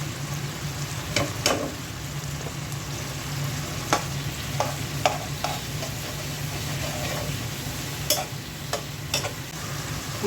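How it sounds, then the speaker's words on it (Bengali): Spices stir-fry in a pan with a steady sizzle and scattered spatula scrapes and taps, moderately close, with no one speaking; the masala is for a tengra fish curry. "মশলা কষানো হয়ে গেছে"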